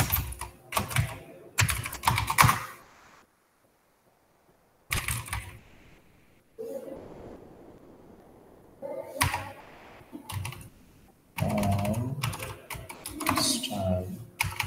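Bursts of rapid clicking on a computer keyboard while CSS code is typed, broken by pauses in which someone speaks.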